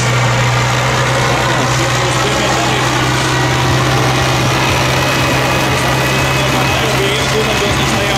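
MTZ and New Holland tractor engines, four-cylinder, drone loudly and continuously at a drag race, with a steady low hum and rough mechanical rumble, no pauses.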